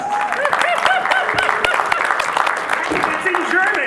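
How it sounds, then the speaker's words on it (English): An audience at an improv comedy show applauds with clapping and cheering, a dense crowd roar carrying excited voices and whoops over it throughout. "Give them a round of applause."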